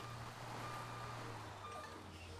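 A bus drives along in GTA 5, its steady low engine drone running continuously under faint background sound, with no talking.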